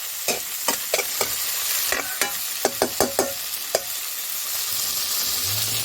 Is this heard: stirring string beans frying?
yes